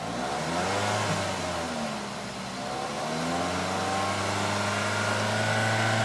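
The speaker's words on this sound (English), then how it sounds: "It's a stock muffler, and now the staff will push the accelerator pedal and just rev up." A Suzuki Swift Sport on its stock muffler revs from idle, the engine note climbing, dipping, then rising and holding at a steady higher pitch. The sound is moderately loud, heard alone without voices.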